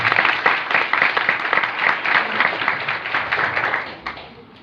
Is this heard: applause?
yes